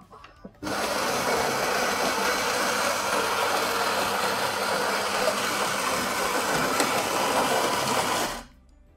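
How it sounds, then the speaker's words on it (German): Grinder of a Philips 5400 Series EP5447/90 fully automatic coffee machine milling beans for an espresso: a steady, loud mechanical whir that starts abruptly, holds evenly for about seven and a half seconds, then cuts off. "Und ihr könnt euch jetzt schon mal das Malwerk anhören."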